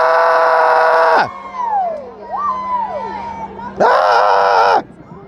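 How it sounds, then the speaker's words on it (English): A loud screaming goat sound effect blares twice, each a long harsh bleating scream, separated by a stretch of quieter crowd chatter and whooping at a Texas holiday event. "I need the screaming goat right now."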